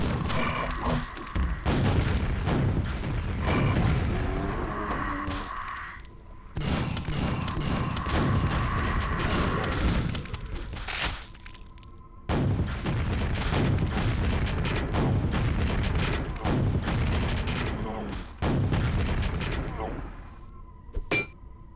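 Rocket launcher explosions from a classic PC first-person shooter boom repeatedly in heavy, dense bursts over game music and ambience, some cutting out abruptly between blasts.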